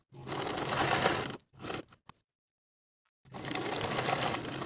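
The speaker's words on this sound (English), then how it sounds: "mark the button placement along the right front and sew each buttonhole in place." A sewing machine stitches buttonholes on a cardigan in close, whirring bursts: one long run, a short one and a tiny tap, then a pause before another long steady run.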